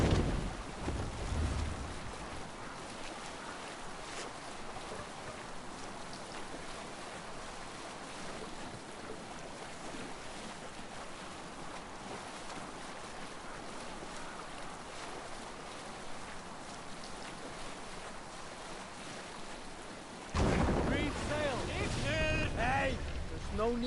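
A Viking sailing ship under sail in Assassin's Creed Valhalla, a steady broad rush of wind and water running on without a break, joined near the end by a louder burst with voices over it.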